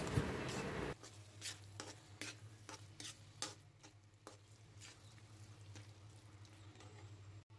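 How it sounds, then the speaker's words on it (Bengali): Cabbage mash with chopped coriander leaves stirred by hand, a soft clatter at first, then a run of quiet, evenly spaced scraping strokes over a low hum, close and with no talking. "তারপর ধনিয়া পাতা কুচি দিয়ে ভালোভাবে নেড়ে চেড়ে নিতে হবে।"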